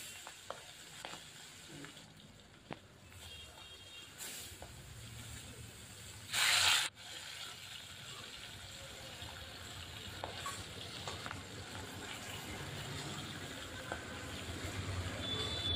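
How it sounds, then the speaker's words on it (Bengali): Fish pieces fry in hot oil in a pan, producing a continuous close crackling sizzle with scattered pops and a brief loud burst of hiss partway through. "এখানে আমি এভাবেই কিন্তু সবগুলো মাছই কিন্তু ভেজে নেব।"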